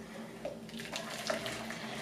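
Water runs from a tap or is poured for gelatin, a faint, quiet trickle heard briefly.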